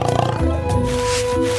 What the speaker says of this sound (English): Here is a panther.